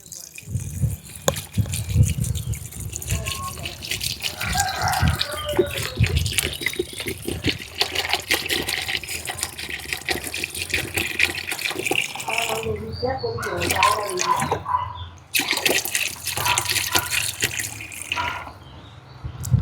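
Water poured from a tap into a pot for cooking a kilo of rice for biryani, a steady rushing fill running for nearly twenty seconds close by, with a voice talking over it.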